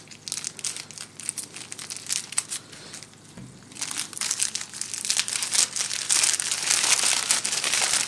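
A plastic package bag is crinkled and crushed while being unboxed, giving a steady near crackle that starts softer, pauses briefly around the middle, then grows louder and denser toward the end.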